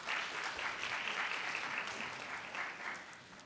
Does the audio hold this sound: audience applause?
yes